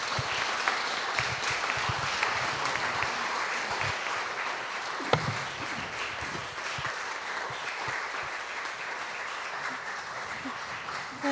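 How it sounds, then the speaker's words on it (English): Audience applause for Alastair McIntosh at the close of an interview on Celtic and Christian spiritual ecology, a steady wash of clapping sustained for about eleven seconds at moderate level, with a few brief voices mixed in. "Please give a warm round of applause to Alastair."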